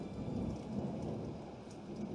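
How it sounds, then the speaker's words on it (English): A thunderstorm pours steady rain with a low rolling rumble of thunder underneath, soft and fairly distant, continuous throughout without any voices. "We begin on a dark, stormy night."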